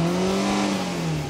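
A small petrol engine in a Ford Mondeo runs steadily just after starting, a loud, close, even hum with no voices over it.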